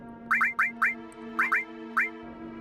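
Repeated cartoonish duck-like honks from the Final Fantasy VII video game, aimed at an NPC: six short quacking blasts in two quick bursts, loud and clear over a steady low game hum.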